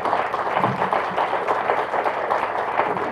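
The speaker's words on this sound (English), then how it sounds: "Let's give a big round of applause for Dr." Audience applause at an aquarium groundbreaking ceremony: a dense, even wash of many clapping hands sustained throughout at moderate loudness.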